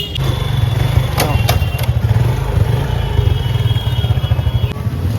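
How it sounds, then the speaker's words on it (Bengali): A motorcycle wheeled out of a garage, its engine idling in a steady, close, rough putter, with a few clattering knocks near the start. "এই যে বাইক নিচ্ছে।"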